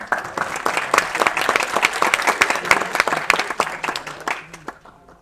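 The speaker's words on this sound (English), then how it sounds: "One more round of applause, please" Audience applause fills a hall after a keynote talk, dense clapping sustained for about four seconds before thinning out and fading near the end.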